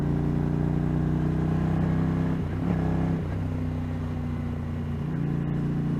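A 1981 Honda GL500 Silverwing Interstate motorcycle engine with Emgo pipes and an H-pipe runs steadily and close, a deep even throb that briefly blips and rises mid-clip before settling back into a smooth idle, with no one talking.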